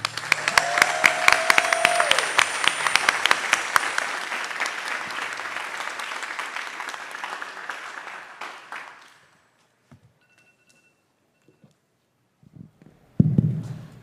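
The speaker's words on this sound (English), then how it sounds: "We want to give a huge round of applause." A crowd applauds loudly and steadily for several seconds, the clapping fading out to near silence, then a few scattered sounds follow.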